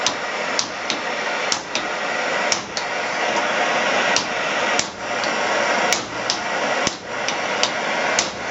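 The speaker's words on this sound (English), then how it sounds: "I'm going to get the socket down through the middle and try and knock it out" Repeated metal hammer strikes ring out at an irregular rhythm, about a dozen sharp knocks knocking a flame-heated socket out of a GM 350 engine, over a loud continuous roaring torch hiss.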